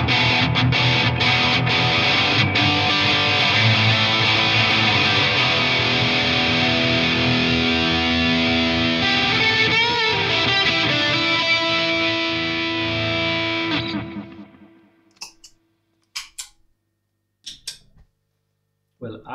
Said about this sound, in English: Switch back to the studio reverb.